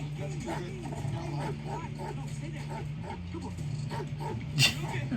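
A dog yips and whimpers repeatedly in short, rhythmic bursts over a steady low hum, with a sharper bark or clatter near the end, heard during a TV episode.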